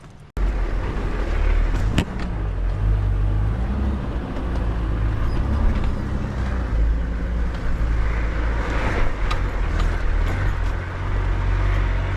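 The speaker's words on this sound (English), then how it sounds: "First bit of proper four-wheel driving in the 80" Toyota Land Cruiser 80 series crawling off-road in four-wheel drive, steady loud engine drone with creaks, knocks and rattles of the body over rough ground throughout, no speech.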